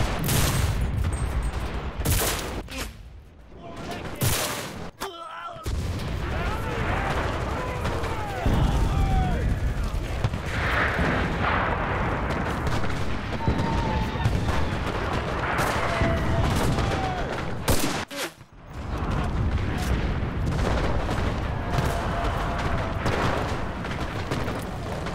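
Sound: gunfire in Enlisted video game

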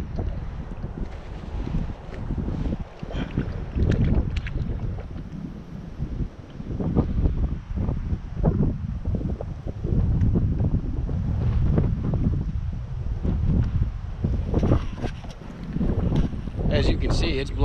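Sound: wind blowing over the water while fishing from a boat

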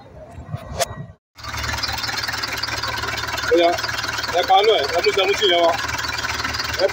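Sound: Mercedes-Benz 814 Ecopower truck engine running

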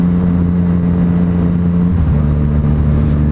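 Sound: Yamaha MT-09 motorcycle engine revving with throttle

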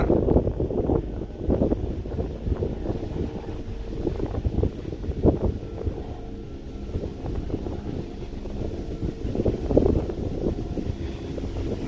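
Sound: wind

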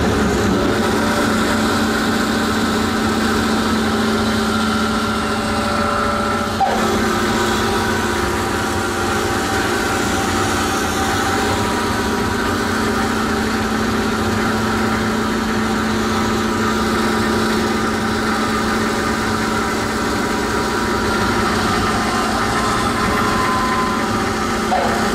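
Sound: 1971 Delta Rockwell bandsaw running

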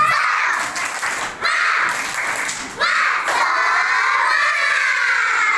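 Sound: schoolchildren doing a rhythmic clapping cheer

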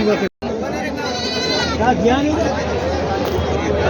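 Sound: goats bleating

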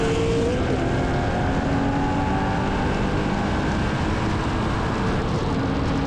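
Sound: Ford Mustang accelerating hard in a race

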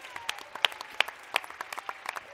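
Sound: applause

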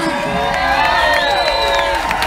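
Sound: concert crowd applauding and cheering

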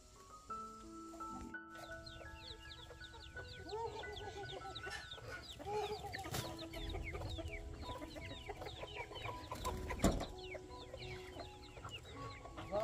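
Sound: chickens clucking, hen that laid an egg

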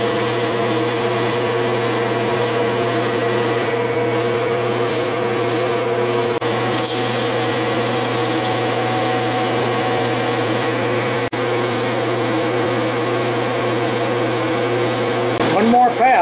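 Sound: boring out metal on a lathe

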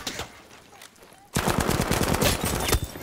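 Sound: gunfire from behind in video game Battlefield V

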